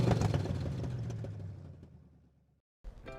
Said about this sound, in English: we're driving inside the 2023 Chrysler Voyager